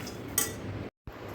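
Roasted makhana (fox nuts) are tipped into a kitchen utensil, and a spoon gives a single short metallic clink against the vessel, followed by quiet handling.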